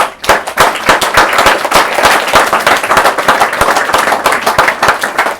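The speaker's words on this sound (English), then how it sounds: "I think a round of applause for them" A room full of people at a book launch claps for someone: loud, dense, steady applause with sharp overlapping claps that goes on without a break and has no talk over it.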